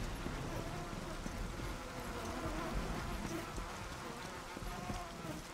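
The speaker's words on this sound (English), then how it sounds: "You can just hear like flies buzzing around everywhere now, bringing famine, bringing disease" Flies buzz around everywhere in the God of War video game, a steady dense insect drone filling the space alongside other game ambience, with no clear pauses.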